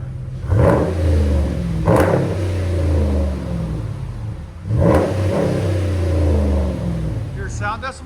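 A Ram 1500 with the 5.7L Hemi V8 fitted with a Carven TR exhaust, heard from inside the cab, revving in a few deep surges that swell and fall back to a rumbling idle.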